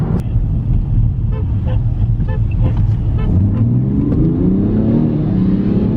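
A BMW M3 F80 accelerates hard in a rolling race against a BMW 335d xDrive, its engine note climbing steadily as it pulls away, loud and continuous beneath cabin road noise and a voice talking over it.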